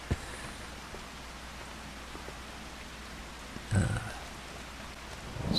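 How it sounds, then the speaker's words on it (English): Steady rain falls in Farming Simulator 25, a soft continuous hiss of drops with a brief louder splash or rumble partway through, no voices heard. "I'm not going to bother washing it, it's raining out."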